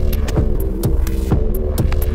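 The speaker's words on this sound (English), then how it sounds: "sort of didgeridoo style. And as you can hear, there's a really great distortion built in" Distorted, didgeridoo-style drone from an iZotope Iris synth patch, a gritty low throb pulsing in a steady rhythmic groove with bright clicky accents recurring about every quarter second, loud and continuous.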